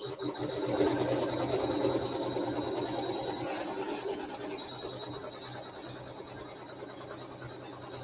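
Embroidery machine sewing a placement stitch, with a close, rapid and steady mechanical needle rhythm and a faint high whine, running on without pause and easing slightly in loudness.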